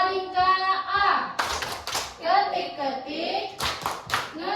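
Children clap a rhythmic classroom clap chant at an elementary school, with a few sharp bursts of clapping between stretches of young voices chanting and talking.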